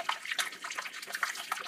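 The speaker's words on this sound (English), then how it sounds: "And I'm going to pour water in till it reaches about half the height of the cups." Hot water is poured into an oven water bath around custard cups. A close, steady splashing trickle with small bubbling spurts runs for under two seconds.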